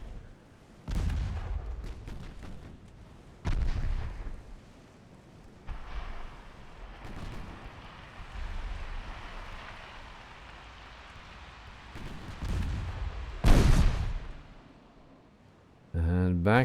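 Warship guns in the naval battle game Ultimate Admiral Dreadnoughts fire in heavy booming salvos, several deep blasts spaced a few seconds apart over a rumbling, rain-like background, with a voice talking throughout.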